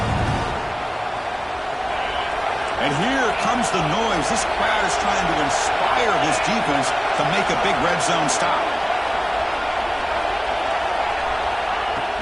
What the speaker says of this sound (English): And here comes the noise. This crowd is trying to inspire this